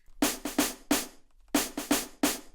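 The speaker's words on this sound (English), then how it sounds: "we have this snare fill with some kind of old school snare playing a MIDI pattern as well" An old school snare plays a MIDI fill in a house track: seven crisp, bright hits in two short bursts separated by a brief gap, with accents that vary in strength, dry and alone.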